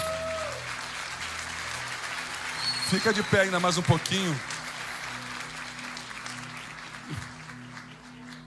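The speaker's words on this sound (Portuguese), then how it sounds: "Você pode aplaudir ao Senhor?" A church congregation applauds the Lord during a pastor's sermon, a steady wash of clapping running beneath the pastor, who speaks briefly over it.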